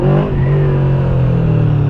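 A Yamaha V-Max motorcycle's 1700 cc engine revs steadily with a deep, throaty drone, loud and close, holding a fairly even pitch throughout.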